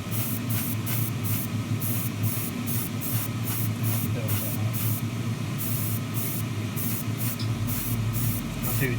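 Aerosol clear coat sprayed in light coats onto Tamiya Ferrari LaFerrari 1:24 model car chassis parts: a run of short, close hissing bursts with brief gaps between them, a steady background rumble underneath.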